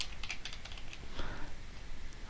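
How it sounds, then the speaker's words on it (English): Quick clicks of a computer keyboard as someone types a short word, a few close, quiet keystrokes in a small burst. "I'll type region"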